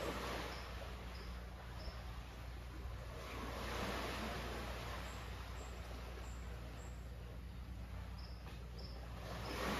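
Gentle water waves washing ashore at a retreat in Panama, a steady soft surf hiss running throughout with insects chirping faintly in the background, no voices.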